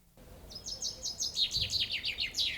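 Forest ambience with a bird chirping in a quick repeating series of high, bright notes, fairly close, over a soft, low background hush.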